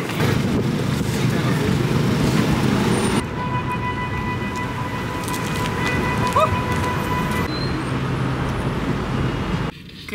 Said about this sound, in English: now we're in traffic in the car on our way to the event